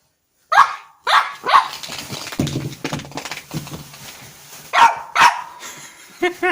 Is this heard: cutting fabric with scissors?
no